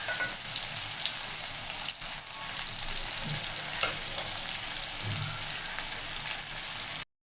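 Two chillies and an onion fry in oil with a steady, busy sizzle and occasional stirring, close and continuous with no talk.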